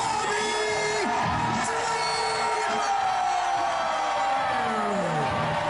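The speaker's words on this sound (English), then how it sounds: "Crowd's going wild, kids going wild." A wrestling crowd in Cincinnati cheers, whoops and yells for Tommy Dreamer, a loud sustained roar with rising and falling shouts throughout.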